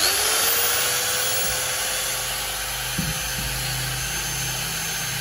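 A Makita electric power tool, rewound from 100V to run on 220V, runs with a smooth, steady motor whine and hum, close and continuous, with a brief knock partway through and no talking.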